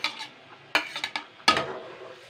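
Fried pieces of a large tilapia go into a boiling curry in a pot, producing sharp metallic clanks and clatters of utensil on cookware in a few distinct bursts, with no talking.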